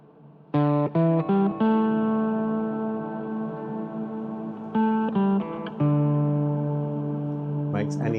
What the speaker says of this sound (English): on the master channel, I can turn on a nice bit of reverb